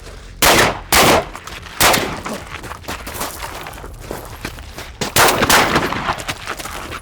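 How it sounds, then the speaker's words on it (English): Suppressed shotgun firing reduced-load buckshot at close-quarters targets, a series of sharp, loud muffled shots spaced unevenly, two close together near the start and more later, with clattering movement and handling noise between them. "we're gonna be doing one shot per target because, well, it's a shotgun"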